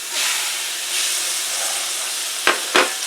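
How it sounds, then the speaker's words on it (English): Shrimp go into a hot pan and sizzle loudly, a steady frying hiss with two brief sharp bursts near the end as more pieces land or are moved. "Now we're going to add our shrimp."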